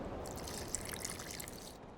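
Water is poured into an alchemy mixture in the fantasy role-playing game The Witcher 2, a faint, continuous trickle and splash lasting about two seconds before stopping.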